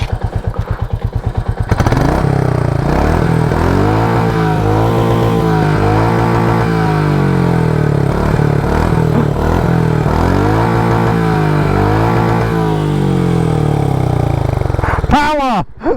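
A Royal Enfield Meteor 350 motorcycle on a test ride gives a loud, close engine drone whose revs rise and fall repeatedly as it pulls away and shifts, with wind rush throughout and a couple of short thumps at the end.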